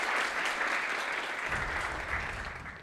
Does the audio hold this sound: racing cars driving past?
no